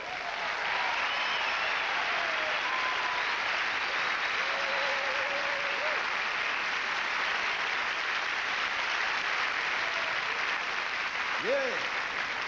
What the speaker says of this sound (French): Faudrait surtout pas oublier de féliciter, de bien applaudir nos danseurs et danseuses